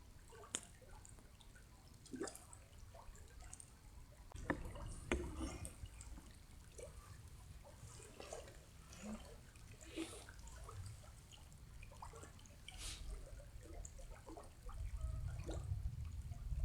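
Water trickles and drips near a river at night by a campfire, a faint, irregular patter of small splashes over a low steady background.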